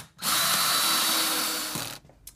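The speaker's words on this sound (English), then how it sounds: "I can pop this down and drill the screw in" Power drill driving a screw into a wall during installation of a BlueSpray 16-zone WiFi irrigation controller: one close, loud, steady whir lasting about two seconds, then stopping.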